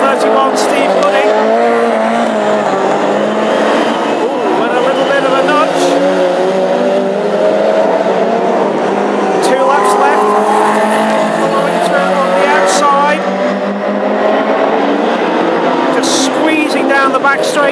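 Hot rod race cars roar around an oval track at a Classic Hot Rods final in Birmingham, a loud continuous engine drone with tire noise, a commentator talking over it throughout.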